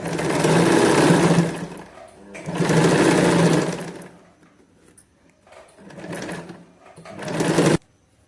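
Sewing machine stitching a size 38 blouse with four tucks, running in several loud bursts separated by short pauses, the last run stopping abruptly.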